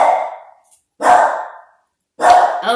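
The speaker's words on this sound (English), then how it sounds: "Uh-oh, my dog's talking." Dog barking nearby, three loud, separate barks spaced roughly a second apart, with silence between them and no talking.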